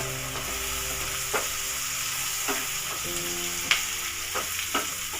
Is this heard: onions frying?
yes